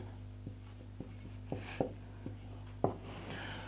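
Chalk tapping and scratching on a classroom board as a Sanskrit grammar lesson is written: a series of short, sharp clicks at irregular intervals over a steady electrical hum, with no talk.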